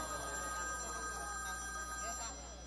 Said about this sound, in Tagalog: yung telepono mo tumatawag na nagri-ring, naman. andyan sa bag mo